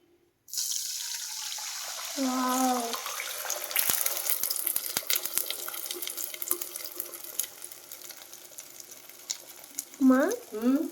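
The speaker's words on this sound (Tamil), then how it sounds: "எண்ணெய் சூடாயிட்டு இப்போ முட்டையை வந்து நம்ம ஊற்றிக்கலாம்" Beaten egg poured into hot oil in a pan on a home stove sets off a bright, crackling sizzle that carries on steadily close by, with a few brief clinks and scrapes.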